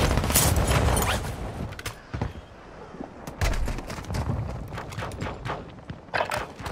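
Bursts of gunfire from Call of Duty Warzone 2.0 crackle in quick volleys, loud and near, with brief lulls between clusters of sharp shots and no talking.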